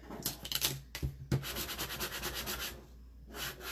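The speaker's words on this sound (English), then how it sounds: "Burnish." Rubbing strokes burnish pattern vinyl down onto a sign, a series of close, scratchy back-and-forth swipes with brief pauses between bursts.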